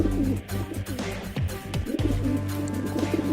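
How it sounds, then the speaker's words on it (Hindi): Pigeons flock on the ground in a cartoon scene, giving soft repeated coos and a few chirps over a droning music bed, with no speech. "ओह माय गॉड, इतने ज्यादा कबूतर जमीन पर उतरे हुए हैं।"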